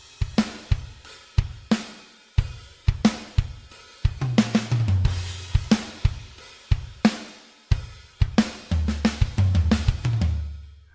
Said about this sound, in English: So that's using Steven Slate drums, and I've just programmed in this part.